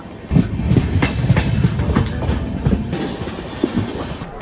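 A moving train in North Bengal rumbles steadily with rhythmic clickety-clack of wheels over rail joints, loud and close, as if heard from inside a carriage.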